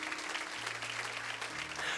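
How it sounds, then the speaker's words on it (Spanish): A church congregation applauding during a Spanish-language service, a continuous wash of clapping with a steady low musical tone underneath, moderately quiet and even throughout. "Denle un aplauso al Señor"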